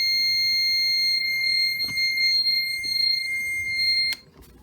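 A steady, shrill electronic low-water alarm from a salon hair steamer sounds continuously, then cuts off abruptly near the end, leaving quiet background noise.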